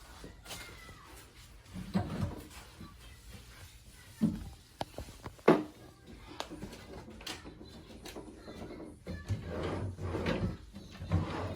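Dresser drawers being opened and shut while an Airbnb bedroom is cleaned, giving several sliding scrapes and sharp wooden knocks at irregular intervals, close by in a quiet room.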